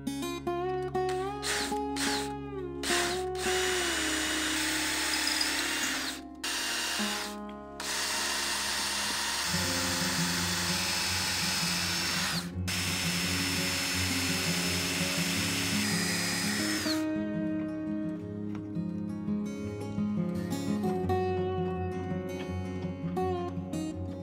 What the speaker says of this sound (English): drill the dowels out on all the legs to take all the mortise and tenon joints apart